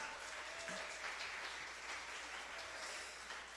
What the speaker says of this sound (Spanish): Si usted le puede dar esas palmas al Señor